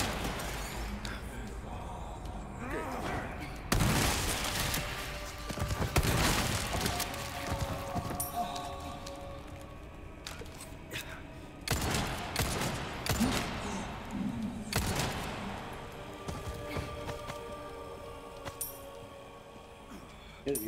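Pistol shots ring out in the Resident Evil 4 (2023) remake, several sharp bursts scattered among crashes, clinks and game noise, with voices talking between them.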